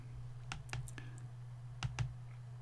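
Quiet clicks of a computer mouse, a few sharp taps in two short pairs over a low steady hum, with no voices.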